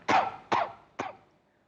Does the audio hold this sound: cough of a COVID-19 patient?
yes